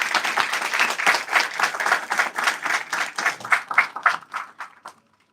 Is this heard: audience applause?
yes